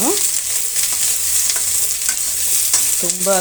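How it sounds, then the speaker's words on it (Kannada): Chopped onion and bitter gourd pulp fry in hot oil with a loud, dense, continuous sizzle, a few faint stirring scrapes breaking through near the end. "ಈರುಳ್ಳಿ ಜೊತೆಗೆ ಹಾಗಲಕಾಯಿ ಮಧ್ಯೆ ಇದ್ದಂತಹ ತಿರುಳನ್ನು ಕೂಡ ನಾನು ಸೇರಿಸ್ತಾ ಇದ್ದೀನಿ. ಇದನ್ನು ಕೂಡ ನಾವು ಫ್ರೈ ಮಾಡ್ಕೊಳ್ಳೋಣ"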